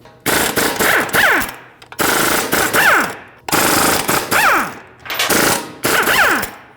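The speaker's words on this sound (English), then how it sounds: "use a 17mm socket, remove all 5 lug bolts, and then remove the wheel." An impact wrench with a 17mm socket spins the five rear wheel lug bolts off a 2016-2022 Mercedes-Benz GLC300. Five loud, separate bursts of hammering rattle each last about a second, with a whining tail and short pauses between them.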